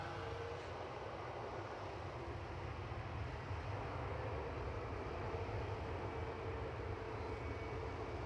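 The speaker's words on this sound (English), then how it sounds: "Jetstar heading off now. This one heading off to Adelaide." Jetstar airliner departing Gold Coast Airport for Adelaide, a faint, distant, continuous engine rumble that stays fairly even throughout, with no voices.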